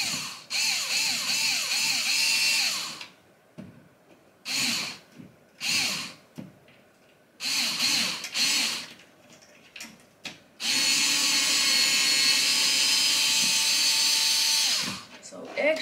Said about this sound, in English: Now all we gotta do is drill this one.